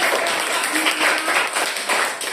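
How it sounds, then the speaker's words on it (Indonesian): Students in a classroom clap for a group after its presentation, a short burst of dense, close hand-clapping with uneven pulses. "Iya, tepuk tangan"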